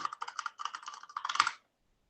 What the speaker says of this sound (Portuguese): Cadê esse menino para reclamar da zoada do teclado?